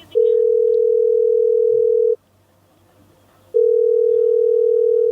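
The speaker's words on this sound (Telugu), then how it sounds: "రింగ్ అవుతోంది" A phone call rings out on the caller's end: a loud, steady electronic ringback tone sounds for about two seconds, falls silent for over a second, then starts again.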